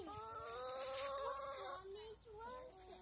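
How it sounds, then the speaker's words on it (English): Backyard chickens, Amber Links and Golden Comet hens, making soft, quick clucks and warbling calls in a short, faint close-up burst. "Come back with that chicken talk."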